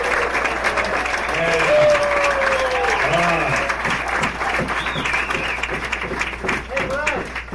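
Audience applause at a 50th high school class reunion, a loud sustained round of clapping close by, with voices calling out over it.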